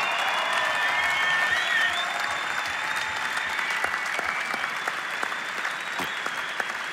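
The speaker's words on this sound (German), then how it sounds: "Sie haben hart gekämpft und dafür verdienen sie einen großen Applaus" Sustained applause from an audience after a combat sports fight, a steady loud wash of clapping with a few sharper individual claps, and a faint voice talking underneath.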